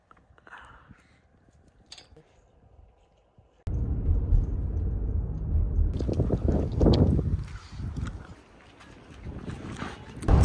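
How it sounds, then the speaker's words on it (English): Strong gusty wind blows outdoors in the open American West, gusting to around 40 mph, starting faint and then buffeting the microphone in loud, uneven roaring surges. "It's quite windy out here."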